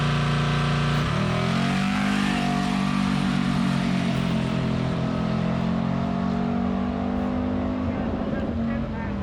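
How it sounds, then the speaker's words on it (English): A twin turbo GMC truck accelerating down a drag strip, a loud sustained engine roar that climbs in pitch, then holds steady near the rev limiter. "that's the one where I hit the rev limiter"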